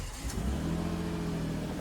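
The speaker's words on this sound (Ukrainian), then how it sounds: "Машина не дає мені договорити." A passing car fills the whole stretch with a steady mid-pitched engine roar that swells slightly as it goes by, loud and close, with no talk over it.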